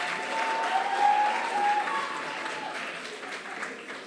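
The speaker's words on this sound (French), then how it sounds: "ce sera Léa Detré, qu'on applaudit très fort." Applause from an audience at a school eloquence tournament as the next candidate is introduced, steady clapping of moderate loudness that swells slightly then holds for several seconds without talk.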